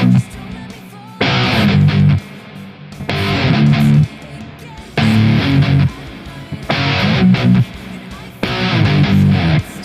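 Electric guitar slowly plays a verse riff in five loud strummed bursts separated by short gaps, alone with no voices.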